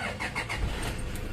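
A car engine cranks and catches, a short churning start that settles into a steady running hum, heard close with no talking, while the brakes are being checked.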